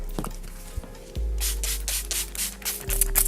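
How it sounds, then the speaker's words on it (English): Short hissing bursts of a spray can, several quick pulses in a row, close up after some faint rubbing. "But you know how much I love my spray, so I'm gonna spray."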